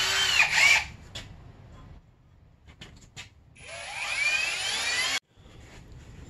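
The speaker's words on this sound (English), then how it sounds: "So I just went ahead and drilled both of these out with a 3/16 inch" A power drill bores out bolt holes on a Honda CRF250R throttle assembly with a 3/16 inch bit, giving two whining bursts, a short one near the start and a longer steady one later, with quiet handling noise between.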